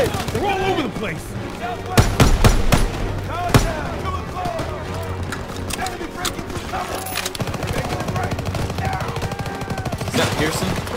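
Automatic machine-gun bursts from an MG firing on a staircase during a Call of Duty: WWII battle, with loud clustered volleys around two to four seconds and steady gunfire and battle noise throughout, mixed under shouted voices and music.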